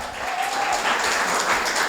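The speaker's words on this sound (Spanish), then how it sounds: "Le damos un aplauso al Señor por esta familia" Congregation applause at a Spanish-language church event, honoring a visiting family of brethren from Germany and the Netherlands; a steady, dense wash of clapping fills the whole stretch without a break.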